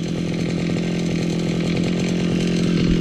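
A motorized grass cutter runs continuously at a loud, steady buzzing drone, close and unbroken for the whole stretch, with no talking over it.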